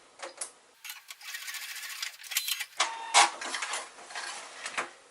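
A sewing machine stitches a short, roughly one-inch test seam without backstitching for foundation paper piecing, heard as close, rapid mechanical whirring in several uneven bursts with brief pauses between.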